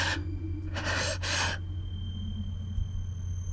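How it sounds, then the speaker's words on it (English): Pained, ragged breathing in the Fate Stay Night video game: a sharp gasp followed by two heavy, shuddering breaths close up, then quieter labored breathing over a low background hum. "All I can hear is my own breathing now"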